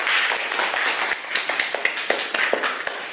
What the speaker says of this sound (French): Si vous avez compris, applaudissez très fort.